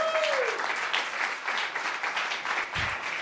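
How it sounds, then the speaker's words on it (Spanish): A church congregation gives a round of applause at a worship service, a steady dense clapping roar at middle distance with a faint voice trailing off at the start. "Den un aplauso al Señor, pues."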